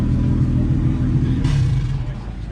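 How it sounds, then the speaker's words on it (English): A turbocharged truck engine taken from a Colorado rumbles loudly and steadily nearby at a truck show, with a brief rise in revs partway through. "The engine came out of a Colorado and it's turboed."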